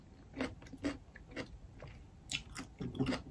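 Close, soft chewing and crunchy biting of snow crab eaten with sauce and cucumber, in irregular bites over a few seconds at low volume.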